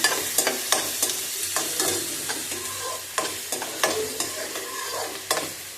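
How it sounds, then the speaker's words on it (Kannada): Green chillies, curry leaves and onion frying in hot oil, with a steady sizzle broken by repeated sharp clinks and scrapes of a spoon stirring against the pan, close and fairly loud with no talking. "ಇಲ್ಲಿ ಮೆಣಸಿನ್ಕಾಯಿ ಕರಿಬೇವು ಎಲ್ಲ ಎಣ್ಣೆಗೆ ಹಾಕಿ ಫ್ರೈ ಮಾಡತ್ತೀನಿ ಉಳ್ಳಾಗಡ್ಡಿ"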